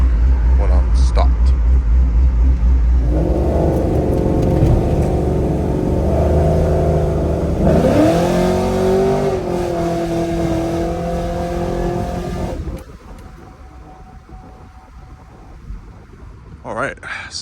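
A cammed GMC Sierra or Chevy Silverado pickup with a stall converter revs while standing still. A loud, lumpy engine drone swells and climbs in pitch mid-way, then drops back, with a voice talking over parts of it.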